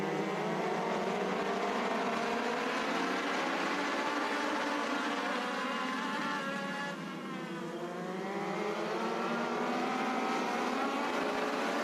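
Bandolero race cars racing at Charlotte Motor Speedway, a steady loud roar of several small engines in a pack, rising and falling slightly as they pass, with no talk over it.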